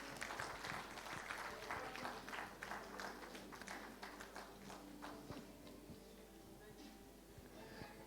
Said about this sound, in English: Come on, with a very big round of applause